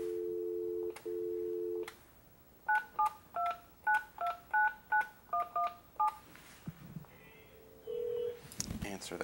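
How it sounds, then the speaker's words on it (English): An Alcatel-Lucent 8028s desk phone on an OXO Connect system dials a number for a conference call: a steady tone, then about a dozen quick, evenly spaced keypad beeps, followed by a short tone and a click. "from here, I dial the number I want to conference."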